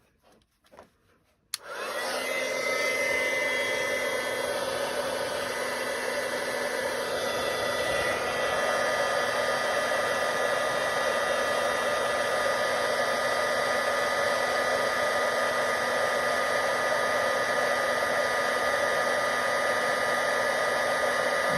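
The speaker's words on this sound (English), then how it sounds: "And now I'll heat set that too. So again, it's going to get a little loud." After a few faint taps, a heat gun blasts on suddenly to heat-set embossing on a clipboard and roars steadily with a loud, whooshing blower hum that continues unbroken.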